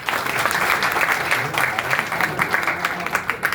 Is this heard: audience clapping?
yes